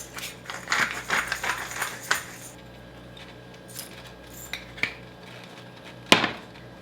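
Chopped vegetables seasoned with salt and pepper are stirred in a pan of oil, giving scattered scraping and clinking of a utensil against cookware, with a few sharper knocks near the end.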